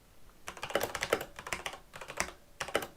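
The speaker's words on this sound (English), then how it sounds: "It's like keyboard ASMR." Typing on a Corsair K63 mechanical keyboard: a fast, uneven run of crisp, clacky keystrokes, close and distinct, with short pauses between flurries and no voice.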